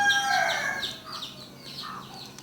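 A newly hatched chick and hens on a farm, a run of thin high peeping cheeps in quick succession over softer clucking, close and clear with no talk.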